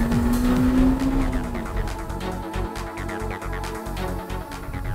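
Honda Civic engine revving hard while driving, a loud close engine note climbing in pitch then settling into a steady drone with road and wind noise underneath.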